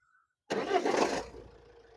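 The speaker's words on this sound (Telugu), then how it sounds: "ఒకసారి గాడి స్టార్ట్ కరనా." A used 2019 Tata Harrier engine starts on a single crank after a short silence, firing up with a loud catch and then settling into a steady, quieter idle heard close by.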